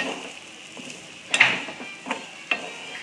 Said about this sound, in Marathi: खोबरं चांगलं परतून घ्यायचं